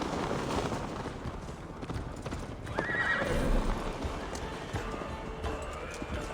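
Galloping hooves clip-clop steadily through a horse ride in Assassin's Creed Valhalla, with a horse neighing partway through and game voices speaking over the hoofbeats.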